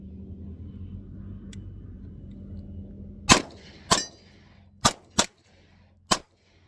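A Smith & Wesson CSX E-Series pistol fired outdoors: five sharp, loud shots with uneven gaps, each ringing out briefly over a faint low background rumble.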